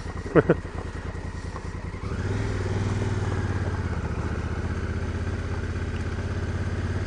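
A 2016 Honda Africa Twin motorcycle rides through a forest, its engine rising from a low idle into a steady, throaty running rumble that holds close and constant after a brief knock at the start.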